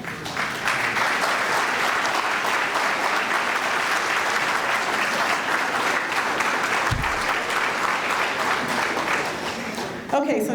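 Sustained applause from a crowd, steady and loud throughout, with dense clapping that tapers slightly near the end.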